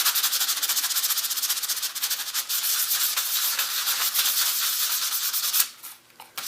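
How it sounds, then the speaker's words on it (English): Sandpaper rubs a copper circuit board in fast back-and-forth strokes, a close, steady, loud scratchy hiss that breaks off near the end and then resumes briefly. "You want to sand it until it's a nice pink color."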